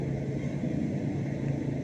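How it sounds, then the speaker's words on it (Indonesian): A steady, low motorcycle engine drone runs throughout at a constant level, close and continuous, with no voices. "Suara mesin pisan."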